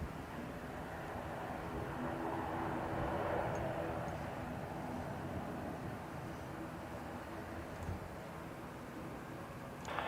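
An Airbus A320neo takes off from runway 10R at Dublin Airport, a faint, distant steady jet rumble and broadband roar that holds throughout without any clear peak.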